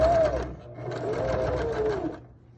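A sewing machine runs steadily up close, stitching bias tape onto a fabric face mask, its motor whirring with a slight rise and fall in speed before trailing off at the end.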